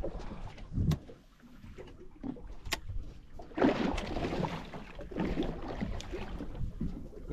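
A fishing boat idles along near a reef, its low engine rumble steady under broad wind and water noise, with brief sharp knocks and a louder swell of wash partway through.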